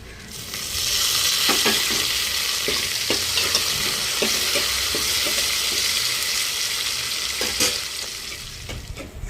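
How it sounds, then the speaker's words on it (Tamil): Chopped tomatoes fry and sizzle steadily in a pan while being stirred, with scraping knocks from the spoon through the cooking of a home-style Tamil sambar base with onions. "வெட்டி தக்காளியும் சேர்த்துக்கிறோம்"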